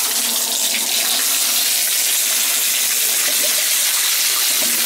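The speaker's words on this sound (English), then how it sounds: "If you run the tub, it's going to back up." Water gushes steadily from a bathtub faucet running full into the tub, a loud, continuous, close rush of splashing water with no pauses and no voices.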